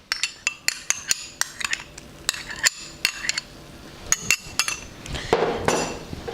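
A spoon mixes peas into matar paneer in a pan, giving sharp, repeated metallic clinks and scrapes in a quick, irregular rhythm, close and fairly loud, with no talking.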